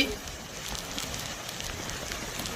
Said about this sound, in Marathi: सगळीकडे सोसाट्याचा वारा आणि पावसाचे थेंब